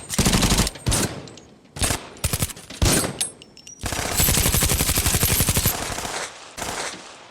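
Heavy machine-gun fire during a staged ambush for a film shoot, loud rapid bursts separated by brief pauses, ending in a long sustained volley followed by a couple of shorter bursts.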